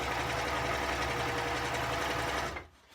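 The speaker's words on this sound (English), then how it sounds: "So I'm going to sew this a little bit," A sewing machine runs steadily while stitching a sleeping bag, a dense continuous mechanical whir near and loud for about two and a half seconds before it stops abruptly.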